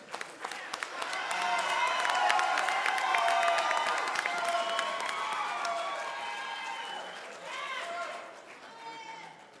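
Studio audience at a debate show on cashless society breaks into applause and cheering, a dense wash of clapping that swells within two seconds, holds strong, then gradually thins out near the end.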